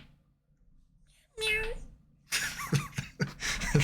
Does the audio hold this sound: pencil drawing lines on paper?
no